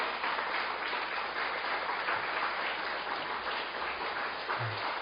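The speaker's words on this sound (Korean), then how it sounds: "나오실 때 크게 박수 한번 해주세요." A church congregation claps together during an evening worship service, a steady dense wash of applause lasting the full few seconds at moderate level.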